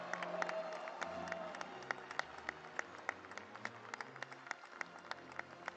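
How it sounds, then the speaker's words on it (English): Audience applause at a FOGSI gynecology society ceremony: a steady wash of many hands clapping, heard fairly faint and distant, with sharp individual claps standing out through the whole stretch. "a huge, huge round of applause"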